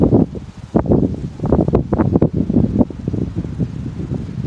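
Wind blowing outdoors, a gusty, rushing rumble that surges and eases in uneven bursts, close and fairly loud on the microphone with no voices.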